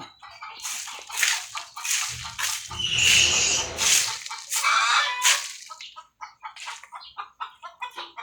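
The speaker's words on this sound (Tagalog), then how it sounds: "Ingay ng mga manok." Chickens, including a laying hen, cluck and squawk noisily up close, a busy overlapping chorus with a louder rough cackle in the middle before thinning out.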